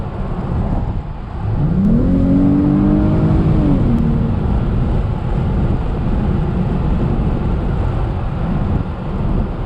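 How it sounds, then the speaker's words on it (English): A 2020 Dodge Charger GT engine hums steadily from inside the cabin while driving, with a brief rising whine as it accelerates early on, then a constant loud drone of road and motor. "See if I can hear this engine work"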